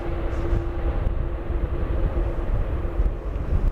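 A heavy airliner comes in to land at Schiphol Airport on a windy day, a continuous deep jet rumble heard from a distance, steady with slight swells and no talk.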